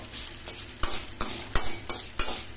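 Ingredients stirred in a frying pan, a spatula scraping the metal in steady rhythmic strokes about three per second over a soft sizzle, close and clear with no talk.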